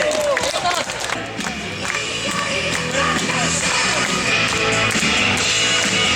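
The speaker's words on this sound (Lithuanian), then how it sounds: "Plius aplodismentai." A crowd at a strongman sports festival roars and applauds, a dense, loud wash of cheering, yelling and clapping sustained for several seconds with voices mixed in.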